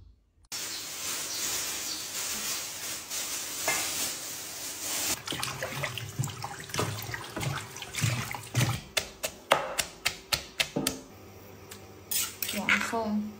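Pots, pans and utensils clatter in a home kitchen while a pot is set up for cooking rice porridge, first as a steady washing-like hiss, then as a run of sharp, close metallic clinks and knocks.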